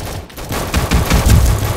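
Gunfire in a Roblox first-person shooter game, dense rapid shots blurring into a rough continuous burst, loud and close.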